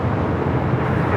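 An Aeromexico airliner bound for Mexico City taxis at LAX, a steady broadband jet roar at moderate distance with no pauses.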